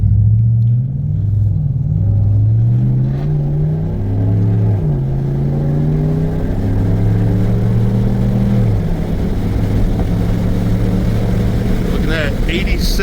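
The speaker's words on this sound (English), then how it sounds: "This is windows down, exhaust is open." A Ram 1500 DT pickup with a Flowmaster dual-mode muffler set to open exhaust accelerates with a deep, loud rumbling drone whose pitch climbs through gears in rising sweeps, heard from inside with the windows down and a voice talking over it.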